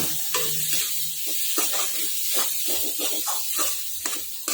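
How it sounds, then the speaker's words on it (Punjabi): Garlic, green chillies and bitter gourd seeds roast in a pan with fried onions, a dense sizzle broken by rhythmic spatula scrapes and stirring strokes, close and unaccompanied by speech. "ਲਸਣ ਤੇ ਹਰੀਆਂ ਮਿਰਚਾਂ ਵੀ ਆਪਾਂ ਭੁੰਨ ਲੀਆਂ 5 ਮਿੰਟ"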